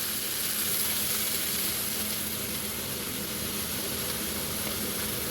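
Onion paste frying over medium heat in hot oil seasoned with bay leaf and whole garam masala for a prawn malai curry, giving a steady, even hiss of sizzling that runs unbroken throughout.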